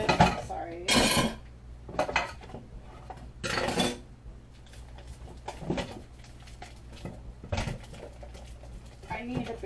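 Dishes and cutlery from a pasta salad are washed in a cramped kitchen sink, with loud, irregular clatters and clinks of bowls and utensils between stretches of running water and occasional talking.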